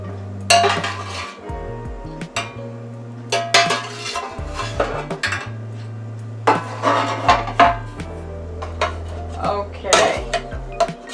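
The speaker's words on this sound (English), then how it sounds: "breaking it up just a little with the spoon" A spoon clinks and scrapes against a dish while breaking up a sweet potato cobbler, with irregular knocks and scraping strokes heard close up and nobody talking.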